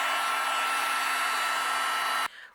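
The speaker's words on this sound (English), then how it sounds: "I'm going to take both of my panels and we're going to melt the embossing powder." A heat tool blasts steadily, melting embossing powder on stamped card panels, a loud unbroken whoosh of hot air that cuts off abruptly near the end, leaving a brief fading tail.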